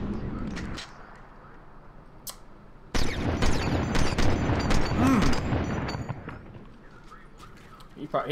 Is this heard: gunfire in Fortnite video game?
yes